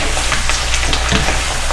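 Squid stir fry sizzles and crackles in a hot pan, a loud, steady frying hiss with occasional stirring scrapes.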